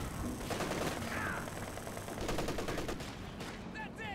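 Machine gun fire from a strategy video game battle, sustained bursts of rapid shots over continuous rumbling combat noise, with scattered impacts and faint game sounds throughout.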